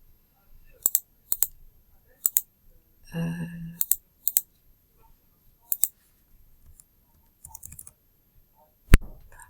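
Computer mouse clicks in sharp, isolated pairs and singles, with a brief burst of keyboard typing, heard close in a quiet room.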